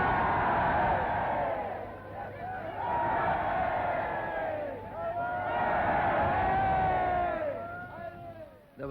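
A dense crowd roars and cheers around the British Premier's car, a continuous loud swell of massed voices with whoops and shouts rising and falling in waves throughout.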